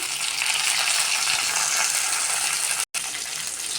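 Curry leaves sizzle in a pan of frying onions, a steady, loud hiss throughout with a brief dropout near the end; no talking.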